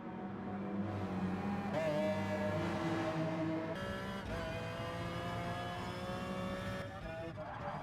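Race car engine in the GT Sport video game, rejoining the race from the pit lane: a loud, steady engine drone with rising revs and gear shifts, continuous throughout with brief tire noise.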